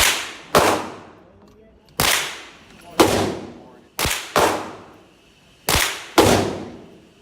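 Seven sharp gunshots crack out at an outdoor shooting range. They come at uneven intervals, some in quick pairs, and each leaves a short echoing tail.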